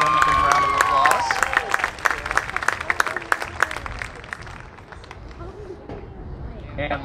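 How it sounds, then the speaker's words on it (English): An audience at a high school band's parent performance evening breaks into a round of applause, loud and dense at first with some cheering, then thinning to scattered claps and fading out. "So let's give them a big round of applause."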